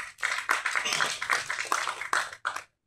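An audience at a Tamil film press meet breaks into brisk, dense applause for about two and a half seconds before it cuts off abruptly.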